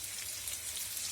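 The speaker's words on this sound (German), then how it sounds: "wie es wieder schöner brutzelt" Tofu pieces sizzle in a hot frying pan, a steady, dense crackling hiss heard close up and on its own, fairly quiet and even throughout.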